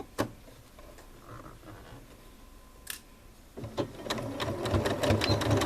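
A sewing machine stitches, with a few isolated clicks at first, then a fast, steady mechanical whirring that builds and carries on to the end.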